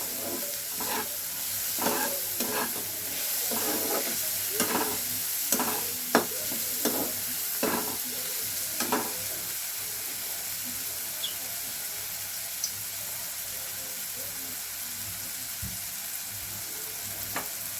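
Semolina pasta sizzles as it fries in a pan, with a steady crackling hiss beneath repeated scraping strokes of a spoon stirring it, the stirring taps spaced irregularly and fading in the second half.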